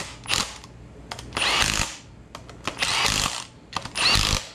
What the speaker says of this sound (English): now I'm gonna go ahead and do the first round of torque with my little 3/8 impact